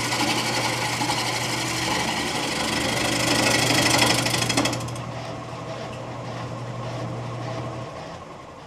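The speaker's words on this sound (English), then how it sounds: "Now that it's almost round, I put the carbide away and went back to the gouge." A wood lathe spins a wet spalted alder bowl blank while a gouge cuts it, a steady whirring hum with a hissing, rattling cut that drops away midway, leaving the motor running alone before it winds down.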